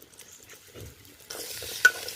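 Potatoes fry in mustard oil as a utensil stirs them in the pan, a quiet close sizzle that brightens into a fuller hiss, with a light metallic scrape near the end.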